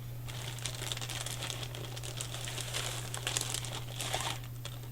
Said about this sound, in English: That's why it's already in its little plastic bag